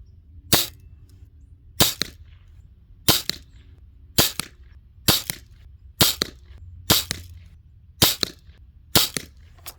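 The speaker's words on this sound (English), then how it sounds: "let's shoot a little group down there and see what we get" A Red Ryder BB gun fires at a target in a slow, evenly spaced series of about nine sharp, close shots, each a crisp snap separated by quiet pauses of roughly a second.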